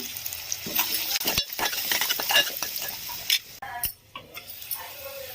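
Onions frying in a pan with turmeric added, a soft sizzle under irregular clinks and scrapes of a spoon stirring against the pan, fairly close with brief pauses.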